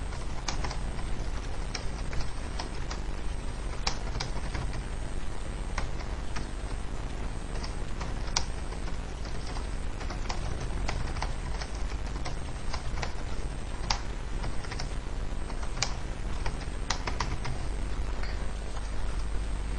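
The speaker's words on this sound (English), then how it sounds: "we just type in something here." Steady typing on a computer keyboard, with quick, fairly even clicks of the keys running close and unbroken, and no voices.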